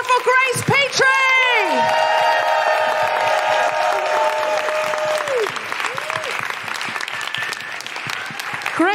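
A live audience at a London comedy and music show applauds loudly and steadily, a dense wash of clapping with some cheering, while a voice talks over the start.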